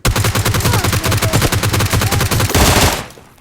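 Automatic weapon fire in the PUBG video game: a loud, continuous rapid-fire burst of closely spaced shots for about two and a half seconds, then a brief harsher blast that fades out. No talking.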